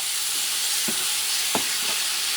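Grated fresh tomato being stirred through paella in a wide pan, steady sizzle and hiss with a few short scraping strokes of a utensil against the pan.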